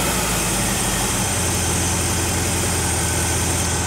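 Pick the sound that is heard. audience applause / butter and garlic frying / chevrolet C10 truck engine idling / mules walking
chevrolet C10 truck engine idling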